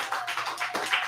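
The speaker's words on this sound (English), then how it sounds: "Clap it up for all the UPK kids that go to graduation." An audience claps for little pre-K kids at a graduation, a quick run of brisk, uneven handclaps lasting about a second, close and fairly loud.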